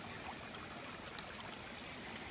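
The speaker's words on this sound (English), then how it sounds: "So this appears to be a legit river." River water overflowing across a hiking path near Mount Davis, Pennsylvania, a steady, faint broadband rush of flowing water, continuous and even with no voices.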